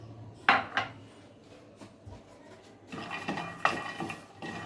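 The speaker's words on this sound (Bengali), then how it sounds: "বাদামগুলো আমি একটু ভেজে নিব" Peanuts dry-roasting in a pan without oil: faint, sparse clinks and rattles as they are moved about, with a few sharper knocks against the pan and quiet gaps between.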